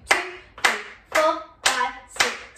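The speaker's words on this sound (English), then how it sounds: "your first move is 16 claps" Five loud, sharp hand claps in a steady, even rhythm, counting out the opening move of a Bollywood dance routine, each clap crisp and close with a short decay, no talking.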